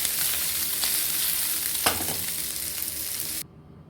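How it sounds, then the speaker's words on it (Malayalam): Kozhuva fish frying in a pan, a dense close sizzle with stirring clatter and one sharp knock midway, then cutting off abruptly near the end. "പിന്നെ ഇനിയും വറുക്കാൻ തുടങ്ങാം."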